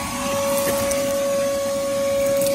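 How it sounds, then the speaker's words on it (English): A vacuum cleaner runs steadily and loudly inside a Monte Carlo car interior, a constant whining drone with a strong fixed tone and little variation. "get all this vacuumed up"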